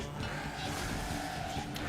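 A car doing a burnout in Burnout Paradise, tires squealing steadily against a loud, continuous engine roar with no talking.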